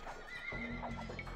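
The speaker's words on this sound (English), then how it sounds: "Horses." Horses whinny in a medieval Eastern Roman strategy video game, one drawn-out neigh followed by shorter whinnies and faint hoof clops, fairly close and with no voices over them.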